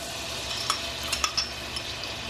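Minced garlic cooking over low-medium heat in a pan, giving a soft steady sizzle with a few brief stirring clicks, no talking.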